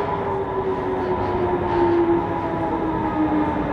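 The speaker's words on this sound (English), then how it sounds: "So this is my train" An S7 S-Bahn train in Munich, heard as a steady, loud rolling rumble with a sustained tonal whine running through the whole stretch, no voices present.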